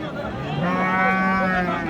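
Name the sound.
cow mooing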